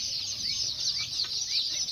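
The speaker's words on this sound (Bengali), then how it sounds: "এগুলো হচ্ছে লোকাল মুরগি।" Local chickens at a rural poultry market make a busy, overlapping chorus of high clucks and chirps, moderately close and continuous, with no speech.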